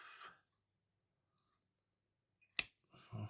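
A single sharp snip as a piece is cut off a plastic model kit sprue, close and crisp in near silence, followed by faint handling rustles.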